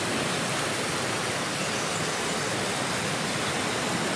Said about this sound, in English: Peaceful little waterfall.